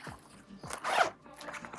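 A zipper on an Evergoods PLC20 backpack is pulled in one quick, close, raspy sweep, with light fabric rustling and handling noises before and after.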